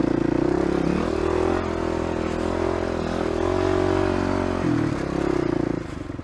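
A motorcycle engine drones loudly and close on Peekaboo Ridge, its pitch shifting as the rider eases off and opens the throttle again.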